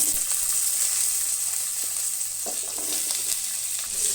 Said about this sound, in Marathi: आता भितर कांदो एड करा